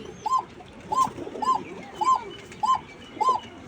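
A female pigeon coos six times at an even pace, each soft rounded call close and clear against a faint background murmur.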